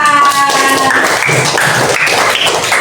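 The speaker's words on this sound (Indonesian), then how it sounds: "Tepuk tangan untuk Winsan" Students clap in a classroom during a coding lesson, with loud, close, rapid taps that blur together into a dense burst throughout.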